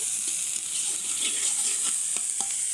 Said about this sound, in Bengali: পেঁয়াজটা একটু বেশি করে দেবো আমি হচ্ছে আগে এগুলো ভালো করে ভেজে নেব